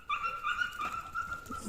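A shaggy dog in Kropyvnytskyi barks and whimpers close by in a short, loud burst of yips and whines, with little else around it.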